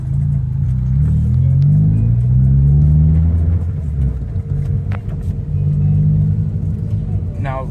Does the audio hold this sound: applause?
no